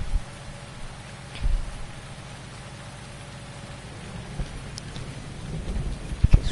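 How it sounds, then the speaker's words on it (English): Heavy rain pours down steadily as a dense, continuous wash, with low rumbles of thunder swelling briefly near the start and again toward the end. "It is a downpour right now"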